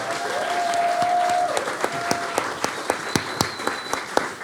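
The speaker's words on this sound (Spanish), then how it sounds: "Un aplauso para ellos." An audience at a bookshop event gives a short round of applause, a dense patter of hands that thins into scattered individual claps toward the end.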